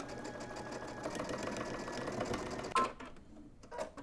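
A sewing machine stitches a garment side seam in a steady mechanical whir, then stops abruptly with a few short clicks and fainter mechanical taps after.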